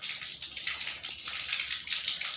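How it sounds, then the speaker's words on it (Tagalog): Water gushes and splashes steadily into storage tanks that supply a vegetable farm, a close, continuous rushing sound heard alone. "Dito namin iniipon yung tubig sa mga tangke papunta ron sa ating farm"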